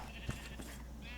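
A sheep bleats from its pen in the video game RLCraft, a modded Minecraft, giving one short wavering bleat over a faint steady background hum, no speech.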